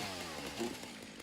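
Chainsaw in the video game Satisfactory, its audio glitching and distorted: a continuous buzzing engine drone with a wavering, smeared tone, steady and fairly loud with no talk.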